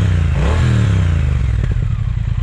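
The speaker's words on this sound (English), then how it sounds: "I tried to capture that exhaust sound for you." A Triumph Speed Twin motorcycle engine revs up loudly and close by, its exhaust rising in pitch before settling into a rough, clattering rumble.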